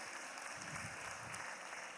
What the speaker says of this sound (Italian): Un applauso glielo farei ancora.